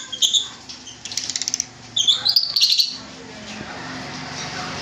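Pet lovebirds kept at home give bursts of sharp chirps and flurries of wing flapping close by, then fall quiet into faint room noise.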